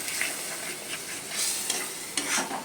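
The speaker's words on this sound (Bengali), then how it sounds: "আরও মশলাটা ভালো করে কষিয়ে নেব লো আঁচে" Spice paste with turmeric and a little water fries on low heat in a village-style Bengali jackfruit and prawn curry. A steady soft sizzle runs throughout, broken by light scraping stir strokes, with no talking.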